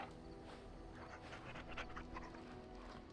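A dog in the Dragon Age video game pants quickly and steadily at a low level over a faint game background; no clear barks stand out.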